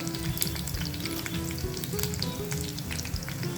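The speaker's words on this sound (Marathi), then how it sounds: "तेल तापलं की आपल्याला कढीपत्ता आणि लसूण टाकायचं आहे" Curry leaves and garlic dropped into hot oil crackle in a dense, lively sizzle with frequent sharp pops over a steady hiss.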